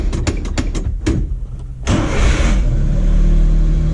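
A Suzuki Carry mini truck that has sat overnight is started up. A few quick clicks come first, then a brief crank, and the small engine catches and settles into a loud, steady idle up close.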